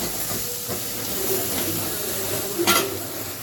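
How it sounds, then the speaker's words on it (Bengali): A steady hiss of vegetables sautéing with turmeric and salt in a hot pan, with soft stirring scrapes and one brief sharper clink near the end. "সামান্য হলুদ আর লবণ দিয়ে এখন এটাকে সাঁতলাচ্ছি"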